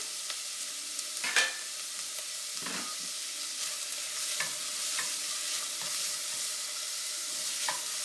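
Onion dropped into a hot pan for enchiladas, a bright steady sizzle with occasional stirring scrapes and clicks, close and continuous without talk.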